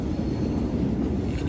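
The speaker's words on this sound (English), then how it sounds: "See, you can actually hear the trains right now." Trains rumble through a metro station at Martin Place, a steady low roar that fills the platform space with a constant mechanical drone and no speech.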